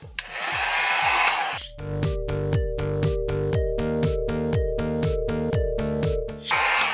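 A heat gun blows hot air onto foam for modular dungeon walls. A loud, steady rushing blast runs for nearly two seconds, then cuts to a rhythmic tonal pulsing, and the hot-air rush briefly returns at the end.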